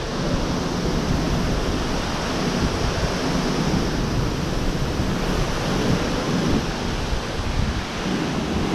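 An 80 mph wind gust roars past in a loud, dense, unbroken rush that buffets the microphone with low rumbling for the whole stretch.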